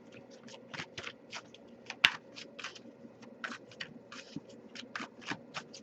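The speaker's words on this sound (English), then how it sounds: "I'll give it a few more shuffles." A tarot card deck is shuffled by hand in quick, crisp riffles and taps, a steady run of soft close clicks with one sharper snap partway through.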